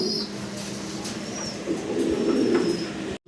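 Pigeons coo softly and steadily in a loft of birds kept for sale, a low continuous murmur with a few faint chirps above it, cut off abruptly near the end.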